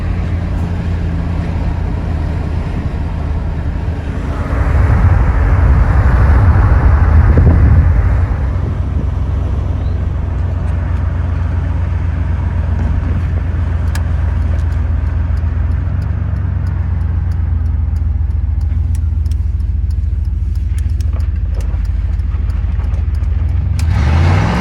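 A 1993 Chevrolet K1500 pickup with a new fuel pump, previously running rough, idles with a loud, steady low rumble. The engine revs up briefly early on, then settles back into a continuous drone.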